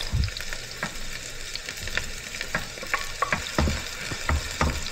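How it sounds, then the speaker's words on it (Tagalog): Onion and garlic fry in oil in a pan, giving a steady close sizzle that runs throughout, broken by irregular scrapes and knocks of a utensil stirring. "maglagay na tayo ng oil sa kawali at prituhin natin itong onion at saka garlic"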